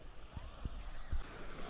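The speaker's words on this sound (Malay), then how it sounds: "Pantai Penunjuk Kijang ni antara pantai awam yang paling cantik lah." Waves wash steadily at Penunjuk Kijang, a public beach in Terengganu, with a broad continuous hiss of surf and a few low thuds as water breaks close by, partly blown by wind against the microphone.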